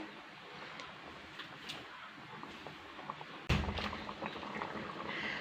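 Kerala-style fish curry at a rolling boil in a pot, a steady close bubbling hiss with a sharper burst of bubbling partway through, no talk.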